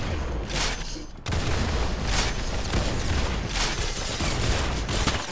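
Gunfire in the Roblox-style shooter game Arsenal, with loud rapid bursts of shots and booming reports that repeat through the whole stretch, close and continuous, with no speech over them.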